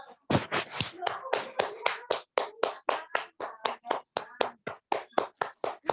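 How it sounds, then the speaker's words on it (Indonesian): Audience clapping to welcome a teacher at a school class event, with sharp, evenly spaced claps in a steady rhythm throughout, fairly close and isolated with no talk over them. "Kita sambut Ustazah Merita dengan tepuk tangan"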